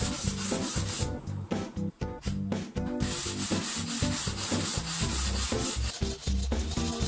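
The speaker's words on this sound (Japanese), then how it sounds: "最後の仕上げ、80番ぐらいのヤスリを使うのが良いそうですが、家にあったのは120番。" A household mirror is sanded by hand with 120-grit sandpaper in quick, scratchy back-and-forth strokes, close and continuous.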